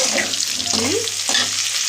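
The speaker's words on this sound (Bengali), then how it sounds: "ফুলকপি ভাজা করছি, একটু ছাকা তেলেই ফুলকপি ভাজা হচ্ছে।" Cauliflower florets fry in hot oil, giving a steady bubbling sizzle close by, with a brief, rising tonal sound partway through.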